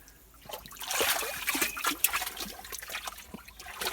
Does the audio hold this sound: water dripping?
yes